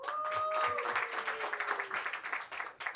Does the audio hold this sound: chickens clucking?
no